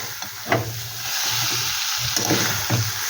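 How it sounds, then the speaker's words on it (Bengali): A fish head fries in hot oil in a pan, giving a loud, dense sizzle with bursts of crackling as it is stirred and pushed around, several scraping stirs spaced through the short stretch. "এবার দিয়ে দিচ্ছি মাছের মাথাটা। এটা দিয়ে একটু নেড়ে চেড়ে নেব।"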